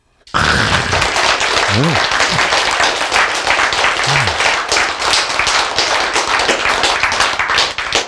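An audience bursts into loud, sustained applause, many hands clapping densely and evenly for several seconds, with a brief spoken word at the start and faint voices underneath.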